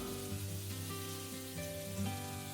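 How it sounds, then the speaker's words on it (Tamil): Marinated fish fries at a low simmer in oil on a tawa with curry leaves, giving off a steady, faint sizzle and crackle with no voices over it. "அதில் ஊற வச்ச மீனை போட்டு சிம்மில் வச்சு ஃப்ரை பண்ணியிருக்கேன்"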